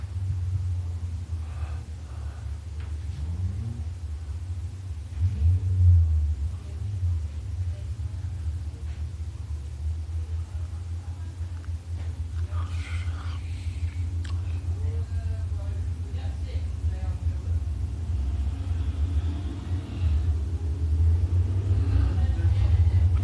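Race car engine rumbling low and steady at a speedway as the winner, Danny Borgeson in the number 25, pulls into victory lane, a continuous heavy drone with faint crowd and announcer noise over it.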